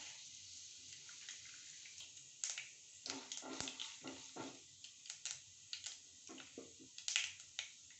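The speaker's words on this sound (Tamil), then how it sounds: "கடுகு பொரிஞ்சிருச்சுங்க." Faint crackling and popping of mustard seeds in hot oil, tempering for aval upma, irregular little pops growing busier partway through.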